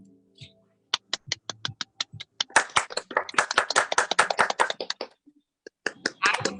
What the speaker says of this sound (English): Let's give them a final round of applause because they truly deserve it.